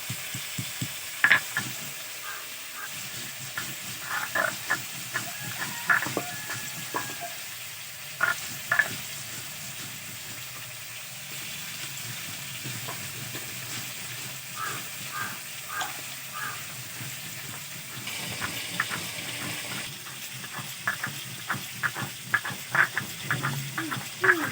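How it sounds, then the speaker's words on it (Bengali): Bhola fish frying in a pan, a steady close sizzle with crackling pops and occasional spatula scrapes running throughout, no voices. "মাছটা ভাজা হচ্ছে"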